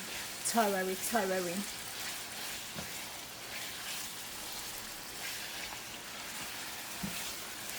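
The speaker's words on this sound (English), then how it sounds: "And allow that to simmer." A hot and yellow pepper mixture simmering in a pan, a soft, steady sizzle with a few light knocks, opening with a brief voice before continuing alone.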